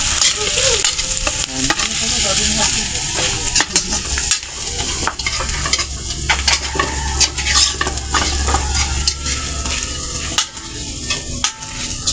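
Garlic sautéing in a pan for a Filipino birthday feast, a steady loud sizzle and frying hiss with stirring clatter of utensils against the pan throughout, no talk.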